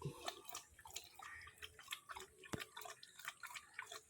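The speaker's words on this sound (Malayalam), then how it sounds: "ചിക്കുവിൻ്റെ വെള്ളം കുടി" A dog lapping water from a bowl, with a steady run of soft wet laps and drips, close and fairly quiet.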